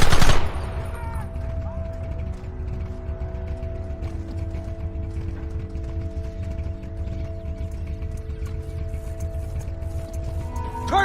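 Rapid bursts of gunfire crackle in a Red Dead Redemption shootout, opening with a loud volley and then repeating shots over a busy, rumbling background.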